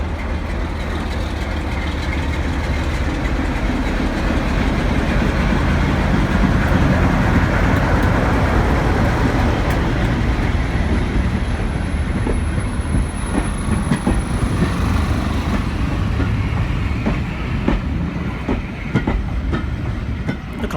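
A Class 47 diesel locomotive, number 47635, departs alone with a passenger train heading for Ongar, giving a loud, steady engine roar close by with rolling wheel rumble and clicks along the track throughout.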